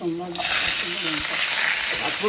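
Panch phoron whole spices hitting hot oil in a pan for an aloo curry, a sudden loud sizzle that bursts up and holds steady, with a voice speaking briefly at the start.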